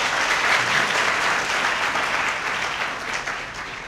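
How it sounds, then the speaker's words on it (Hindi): Audience applauding a child at a Christian youth motivational talk, loud sustained clapping that gradually thins and fades toward the end. "इस बच्चे के लिए तालियां।"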